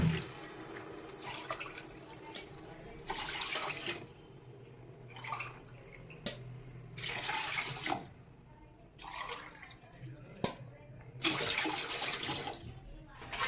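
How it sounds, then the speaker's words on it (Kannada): Water pours from a glass onto rice in several separate bursts, a gushing splash each time with brief pauses between, close by, with a voice talking in the background. "ಈ ಮೂರು ಗ್ಲಾಸ್ ಅಕ್ಕಿಗೆ ನಾನು ಆರು ಗ್ಲಾಸ್ ಲೋಟ ನೀರು ಹಾಕ್ತಾ ಇದ್ದೀನಿ"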